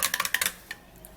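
A spoon clinks rapidly against a container while a turmeric skin drink is stirred, about eight quick bright taps in a short burst, then one last tap, close and fairly quiet.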